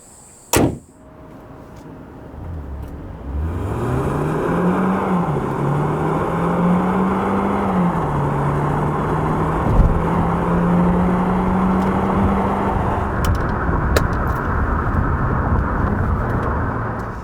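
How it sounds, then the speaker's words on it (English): A 2020 Hyundai Sonata Hybrid engine revs up and pulls hard at full throttle, its pitch climbing steadily through gear changes as the car accelerates, with road and wind noise building. "let me show you how fast Hyundai Sonata Hybrid can be"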